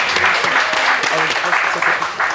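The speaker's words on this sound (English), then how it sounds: "Let's give them a round of applause." An audience claps steadily and fairly loudly all the way through, a dense wash of hand claps after a presentation at an aerospace technology event.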